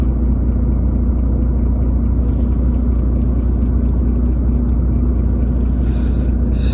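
An HGV truck engine idling in neutral in a workshop setting, a loud, close, steady low diesel rumble holding unchanged throughout with no talking.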